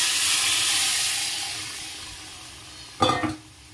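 Water poured into a pan of fried spice paste for a snakehead fish head curry, with a steady frying hiss followed by a short, loud burst of sizzling and steam near the end, no talking.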